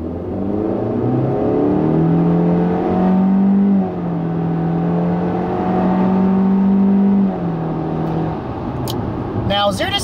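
A 2016 Honda Civic Coupe Touring with a turbocharged engine and CVT accelerates, its engine drone rising and holding steady in long plateaus rather than stepping through gears, loud and close throughout.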